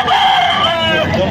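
A rooster's crow rings out loud and close among chickens for sale, one strained, harmonic call over a brief moment with a murmur of background noise.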